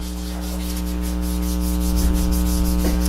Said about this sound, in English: So as you sand it, you'll see it starting to dry off because now you're starting to spread the oil around